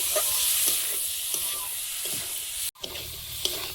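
Prawns frying with spices in a pan for a Bengali chorchori, with a steady sizzle and hiss and intermittent scraping stirs, close and moderately quiet.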